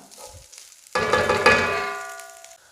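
Chicken samosa filling with mixed masala is stirred in a pan, a sudden metallic scrape and clang of the spoon ringing out over a soft sizzle, then fading.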